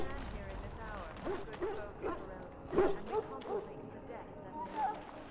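Hounds in the Dragon Age: Origins kennels, sick from darkspawn blood, give a few scattered barks and yips at moderate distance amid game ambience, with speech around them.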